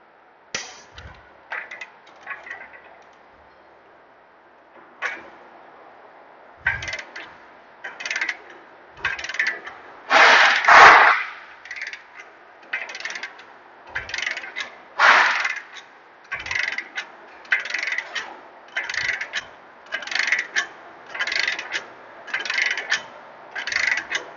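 Click-type torque wrench tightening hub bearing bolts on a 2015 Ford Escape, a steady run of sharp ratcheting clicks in short bursts with brief pauses, close and fairly loud, no talking.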